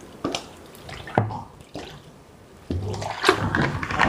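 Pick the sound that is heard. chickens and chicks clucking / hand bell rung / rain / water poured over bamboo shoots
water poured over bamboo shoots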